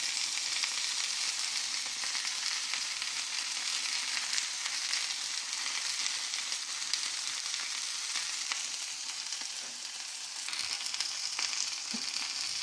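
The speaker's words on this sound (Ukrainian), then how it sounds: "Ось з морквою вже не так шкварчить" Vegetables, including carrots, sizzle and crackle steadily in a hot frying pan, a dense continuous hiss heard up close with no talking.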